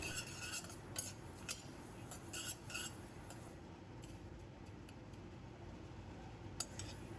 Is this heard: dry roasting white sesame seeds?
yes